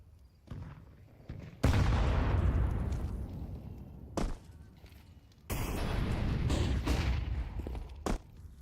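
Rifle fire from an M4 in a competitive shooter game, with several loud bursts of shots and booming reports that cut in sharply, separated by quieter stretches, some echoing tail behind each.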